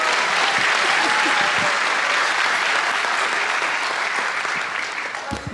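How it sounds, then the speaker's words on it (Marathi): Audience at a stand-up comedy crowdwork show breaks into sustained applause, dense clapping that holds steady and then tapers slightly near the end. "एकदा टाळ्या वाजायच्या."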